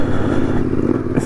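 A motorcycle rides along a road, its engine holding a steady, loud drone throughout with wind rush and no talking.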